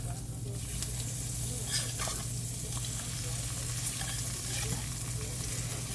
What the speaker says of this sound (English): I'm going to go ahead and flip these eggs over.